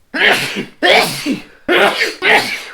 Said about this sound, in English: Just sneezing now because I'm filming.